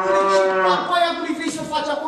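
A cow moos loudly and close in a single drawn-out bellow that wavers and fades, heard alone during a stage play.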